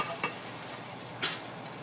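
Beef and broccoli stir fry sizzling in a pan, a steady soft frying hiss broken by two brief scraping stirs.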